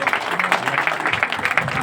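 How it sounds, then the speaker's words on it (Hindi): An audience claps with a rapid, dense patter of hands that is fairly loud and close, sustained throughout without a break. "सो वंस अगेन जोरदार ताली बनती है भाई"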